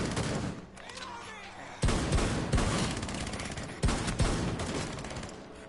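Video game gunfire crackles in sharp bursts, with repeated loud shot impacts layered over a dense background of battle noise and players talking throughout.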